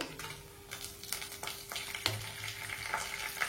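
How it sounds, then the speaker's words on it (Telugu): Cumin, chana dal and dried red chilies frying in hot oil for masala dosa filling, a steady close sizzle with crackling pops and occasional stirring scrapes, no voices. "ఫ్రై అవనిద్దాం"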